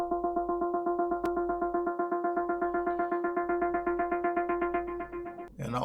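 A synth pluck for an Afro House track, its tone shaped by EQ automation, plays a quick, regular run of short notes that grows brighter and fuller over about five seconds, then breaks off abruptly at the end, with no voices.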